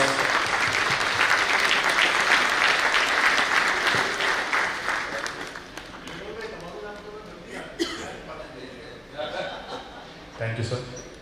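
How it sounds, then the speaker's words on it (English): Audience applause at a national management convention during a token-of-remembrance presentation, loud sustained clapping that thins out after a few seconds into scattered claps, coughs and a little murmuring. "Round of applause."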